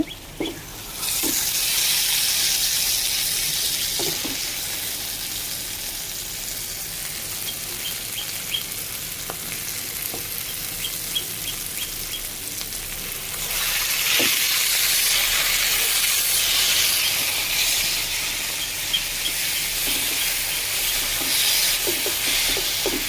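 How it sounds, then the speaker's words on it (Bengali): Jackfruit seeds and dried fish fry in hot oil, a loud continuous sizzle heard up close that swells partway through, with occasional light clinks and scrapes of stirring and no speech. "এবার এটাকে আমি একদম ভাজা ভাজা করে নেব যতক্ষণ পর্যন্ত তেল ছেড়ে না দেয়"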